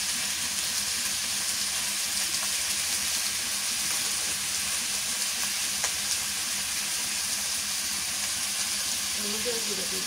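Onion, cumin, garlic and ginger pastes frying in oil, an even, continuous close sizzle and hiss that holds steady throughout.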